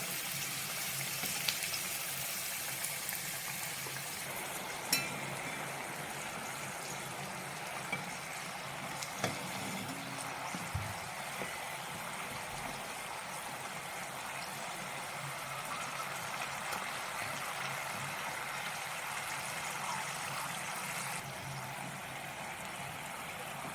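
Sweet somas deep-frying in hot oil on a low flame, a steady dense sizzle and bubbling hiss running continuously with a few small pops, no voices.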